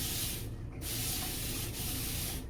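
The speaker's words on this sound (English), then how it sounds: "this mist bottle is so good" Mist bottle spraying water onto a water wave wig, with repeated short hissing bursts over steady rubbing and combing.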